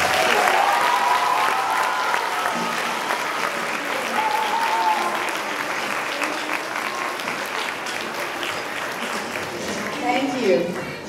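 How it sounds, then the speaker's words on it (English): An audience at a school band, orchestra and chorus event claps in sustained applause, dense and even, gradually easing off with voices mixed in underneath. "let's give her a round of applause."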